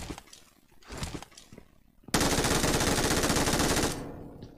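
Automatic gunfire in the mobile battle royale BGMI: a few scattered shots first, then a sustained loud burst of rapid fire lasting about two seconds before fading back.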